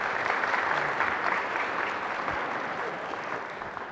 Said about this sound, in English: Let's give these panelists a round of applause.